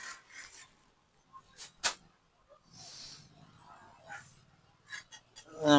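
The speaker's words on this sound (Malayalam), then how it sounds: "നമുക്ക് തൂമ്പൊക്കെ ഒന്ന് മിക്സ് ചെയ്തെടുക്കാം." A hoe mixes chemical fertilizer into soil in a grow bed. Close, gritty scrapes and scratches come in short, irregular strokes with quiet gaps, and a voice is heard briefly at the end.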